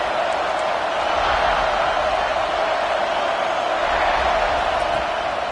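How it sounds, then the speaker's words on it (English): At a college football stadium early in the game, a big crowd keeps up a loud, continuous roar that stays even throughout without distinct cheers or claps. "This crowd bringing the energy and noise early."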